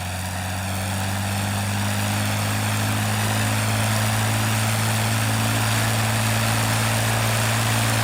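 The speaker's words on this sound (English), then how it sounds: "Turn up to 1500 RPM, get a little fresh coolant in the banks." Curtiss P-40E Warhawk fighter's piston engine running steadily at about 1500 RPM, a loud continuous drone with strong low harmonic hum and propeller roar, sustained without break and no talking.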